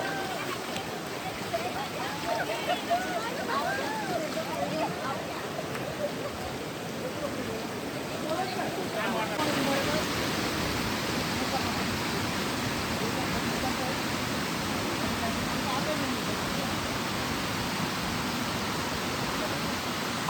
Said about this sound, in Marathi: पाऊस आलेला आहे आणि वॉटरफॉल पहा जबरदस्त दिसतो